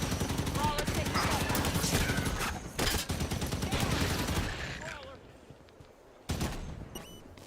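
A mounted turret in Halo 5: Guardians keeps up loud, rapid, continuous automatic fire for about five seconds, then goes quiet before one more short burst near the end. Voices talk over the shooting.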